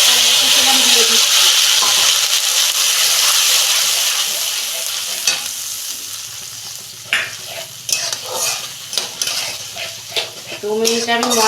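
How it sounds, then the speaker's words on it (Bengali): Ginger and tomato dropped into hot oil with whole cumin, a loud sizzle that fades to a softer fry with scraping spoon strokes and pan clinks, close by. "ফোড়নটা ভাজা হয়ে গেছে, আমি আদা টমেটো দিয়ে দিচ্ছি।"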